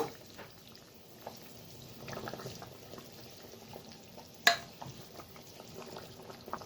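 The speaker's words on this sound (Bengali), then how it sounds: "মাছগুলো ছেড়ে দেব।" Chital fish pieces dropped into a simmering curry of flat beans and potatoes, giving soft bubbling and gentle stirring with a sharp splash or clatter partway through, all fairly quiet and close.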